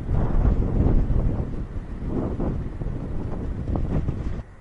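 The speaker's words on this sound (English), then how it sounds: "Too bad that it's so windy up here" Strong wind buffets the microphone on a hilltop in Okinawa beside a Japanese Navy monument, a continuous loud low roar with gusting swells that drops off briefly near the end.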